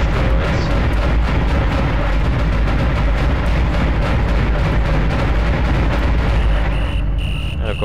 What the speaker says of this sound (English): so now we get to just shoot some asteroids